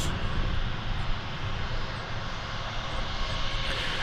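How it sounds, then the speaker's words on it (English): Sun Country airliner on flight 671 from Minneapolis–St. Paul landing at DFW Airport, a steady, moderately loud jet engine rumble with slight swells as it passes. "That was Sun Country, flight 671 coming in from Minneapolis, St. Paul"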